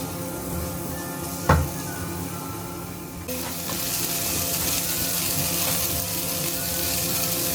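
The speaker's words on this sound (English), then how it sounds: "we let that cook down for a little while until the onions become" Onions sautéing for a butter chicken sauce with butterbeans: a steady, moderately loud sizzle and crackle from the pan, with a brief clatter near the start and the frying noise swelling a little after a few seconds, no talk.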